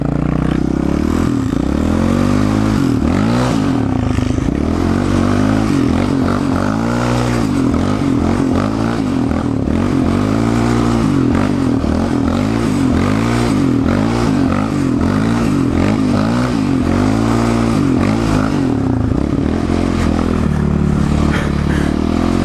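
A Skoda Kodiaq drives fast along a snowy winter road, its engine droning and rising and falling in pitch through repeated passes and shifts, steady and fairly loud, with no voices.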